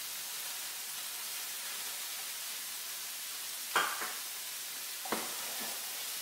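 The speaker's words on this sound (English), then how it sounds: "Stir-fry vegetables, and we're just throwing them right in there." Frozen stir-fry vegetables hissing in a hot pan, a steady broad sizzle throughout with a couple of sharp clattering knocks partway through, close and fairly loud.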